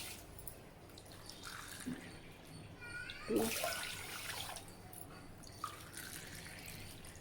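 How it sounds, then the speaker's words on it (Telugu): Quiet water sloshing and dripping in a bowl as rice is washed, with a soft splash midway and light trickles throughout. "దీన్ని శుభ్రంగా కడిగేసుకుందాం బియ్యం వాష్ చేసేసుకున్నాక"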